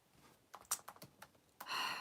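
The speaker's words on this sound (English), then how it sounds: "While he's typing. While I'm typing." Computer keyboard typed on at a livestream desk, a handful of separate key clicks in an irregular burst, then a quicker run of keystrokes, close by and fairly quiet.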